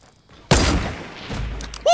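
A sniper rifle in the Fortnite video game fires one loud, sharp shot that rings out and decays, followed by another abrupt burst of game noise near the end.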